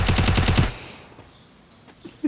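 Rapid automatic gunfire from the Free Fire mobile video game, a loud burst of closely spaced shots for about half a second, then quiet with a couple of faint later thuds.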